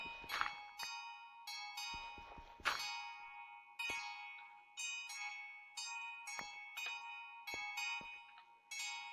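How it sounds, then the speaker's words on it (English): Bells ringing near a priory in Minecraft, bright metallic chimes struck in irregular bursts, each ringing out and decaying, fairly faint with short quiet gaps between strikes. "And then I get bells."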